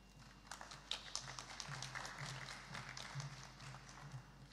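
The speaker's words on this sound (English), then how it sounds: "let me hear a louder round of applause" An audience at a university presidential debate applauding, a faint, steady patter of many hands clapping from a distance over a low electrical hum.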